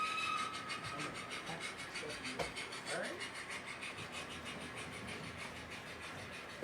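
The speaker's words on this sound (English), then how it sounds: "we're testing out this curved crossing diamond at a slower speed just to make sure it goes." A model train on a layout runs slowly over a curved crossing diamond. It makes a faint, steady rhythmic clicking and a low running hum throughout.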